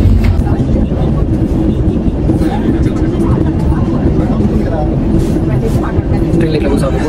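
Steady low rumble and rattle of a passenger train heard from inside a carriage, continuous and fairly loud throughout, with faint talk mixed in.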